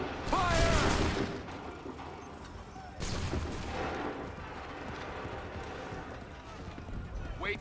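A musket volley fired on command in Assassin's Creed 3 sounds as two heavy, crackling blasts a few seconds apart, each trailing into a rumbling echo, with voices speaking through the scene.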